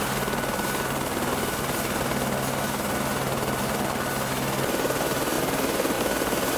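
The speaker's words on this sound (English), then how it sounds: "The helicopter immediately headed off for base camp to pick up his next load." A helicopter on Fox Glacier, New Zealand, roars close by as it takes off, the rotor chop and engine noise loud and continuous throughout.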